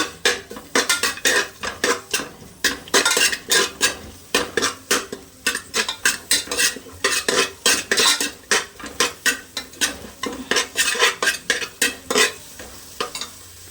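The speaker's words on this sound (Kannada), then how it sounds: "ಈರುಳ್ಳಿ ಮತ್ತು ಕರಿಬೇವು ಇದೆಯಲ್ಲ ಸೊ ಅದೆರಡು ಹಾಕ್ಕೊಳ್ತಾ ಇದ್ದೀನಿ ಒಟ್ಟಿಗೆ ಹಾಕ್ಕೊಳ್ತಾ ಇದ್ದೀನಿ ಚೆನ್ನಾಗಿ ಫ್ರೈ ಮಾಡ್ಕೊಳ್ತೀನಿ ಇವಾಗ" Chopped onion and curry leaves frying in hot oil in a pan, with loud repeated scraping and stirring strokes in a steady rhythm over a sizzling background, close up and with no talking.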